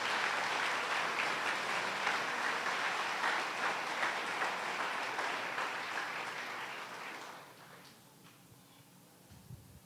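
A church congregation at a Sunday service gives sustained applause for the King, a dense roll of clapping that fades out over the last few seconds, leaving near silence.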